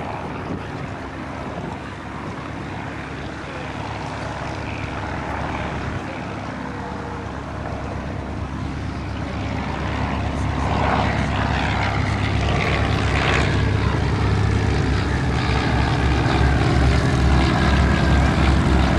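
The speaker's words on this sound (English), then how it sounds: "This is a tube and rag covered aeroplane" A Taylorcraft light aircraft with a tube and fabric-covered airframe drones by overhead, its propeller engine producing a steady, loud hum that swells gradually as the plane draws nearer, with no talking.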